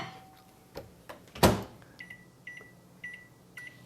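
A microwave oven heats a small batch of heavy cream for chocolate making. A soft hum runs under several sharp clicks and knocks, with a couple of short beeps toward the end. The sound is fairly quiet overall and no one speaks.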